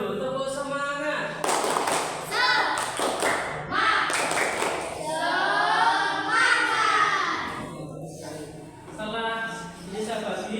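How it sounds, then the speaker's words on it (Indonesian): A primary school class claps a rhythmic spirit pattern together in a classroom, bursts of taps and thumps broken up by children's chanting voices throughout. "Coba tepuk semangat dulu."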